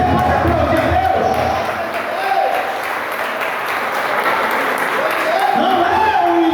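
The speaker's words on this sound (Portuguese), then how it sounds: "Você pode aplaudir a Deus?" Loud applause and crowd noise from a church congregation at a communion service, with a dense roar of clapping throughout and voices shouting or singing over it.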